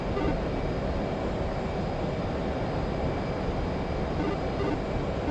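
Jet aircraft engines in the DCS World flight simulator give a steady, broadband roar as the flight rolls out, constant in level throughout with no talk.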